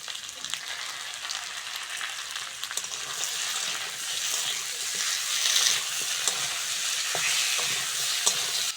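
Potatoes, onion and spices sizzle and fry in hot oil for a Bengali silver carp fish curry, a steady crackling hiss with occasional stirring scrapes and clinks, close and continuous with no voices.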